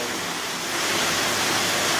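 Water rushes steadily through an underground mine, a dense, continuous broadband hiss that grows slightly louder partway through, with no voices.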